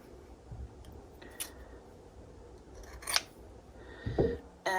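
Scissors snipping a small fabric rectangle for a pumpkin stem, heard as a few crisp, separate cuts close by in a quiet room, with soft handling noises between them.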